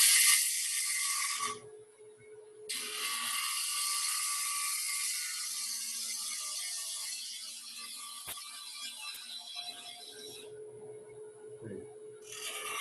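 A bowl gouge cuts wood on a turning lathe, a steady, bright hissing shear that runs almost unbroken. It breaks off briefly twice and sits over a faint motor hum, with no speech.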